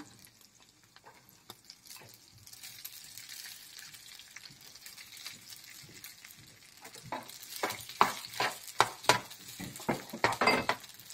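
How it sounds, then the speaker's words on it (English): Ingredients for ajwain rice sizzle in a pan, with occasional stirring scrapes and sputters that build louder toward the end, alone without talk. "if we fry all the ingredients, we need to add the rice."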